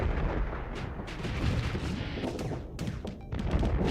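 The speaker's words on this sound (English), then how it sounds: "Plasma cannons." Plasma cannons firing in the space combat game Starsector, a dense continuous barrage of heavy booming blasts and crackling impacts, loud and sustained throughout.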